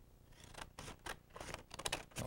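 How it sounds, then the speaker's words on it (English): Scissors snip repeatedly through folded paper, cutting in toward the center fold; a string of close, crisp crunching cuts with short pauses between them, no voices. "get a scissors and start cutting right up until the center"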